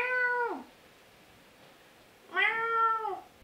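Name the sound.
cat meowing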